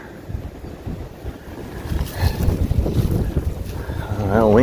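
Wind gusts through woods during a park hike, a steady rushing roar that swells louder toward the end, with the microphone buffeted and no clear talk.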